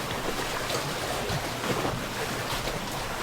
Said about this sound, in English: A few more waves coming in.